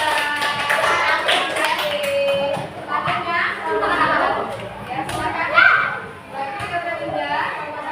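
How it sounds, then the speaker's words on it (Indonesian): Elementary schoolchildren clapping for group 2 in a classroom, steady rapid claps through most of the stretch, mixed with children's voices and chatter, fairly close. "tepuk tangan untuk kelompok 2"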